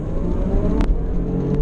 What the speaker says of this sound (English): Oh, I love the supercharger whines.